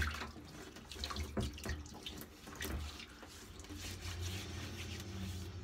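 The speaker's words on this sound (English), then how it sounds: "What I'm gonna do here for starters, gonna get the face wet." Tap water runs steadily into a sink while a face is wetted before a wet shave, a soft continuous splashing with small irregular splatters, quiet and close.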